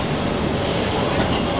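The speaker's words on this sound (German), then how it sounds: "Die 11. U-Bahn, die wir fahren lassen." A Munich U-Bahn subway train passes close by with a loud rumbling roar that fills the brief moment, and people talk over the noise.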